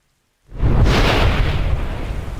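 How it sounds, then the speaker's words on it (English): A deafening crack of thunder in a worsening storm at sea bursts in abruptly after near silence, then rolls on as a loud, sustained rumble. "There was a deafening crack of thunder"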